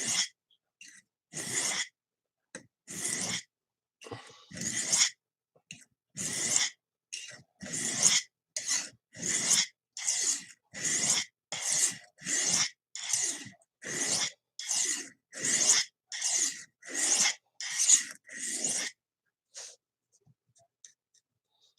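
Repeated rhythmic strokes of a thin, skinny knife blade drawn across a sharpening stone, about two dozen even, scraping passes in steady succession, close and fairly clear with no talking.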